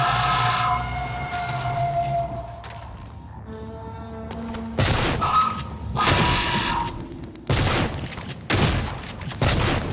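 A shotgun fires in the video game Prey, giving several loud, sharp blasts in an irregular sequence. Mechanical clanks and game sounds fill the gaps, and each blast has a short decaying tail.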